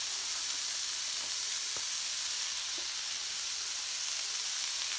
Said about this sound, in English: You want to cook this down until it's translucent.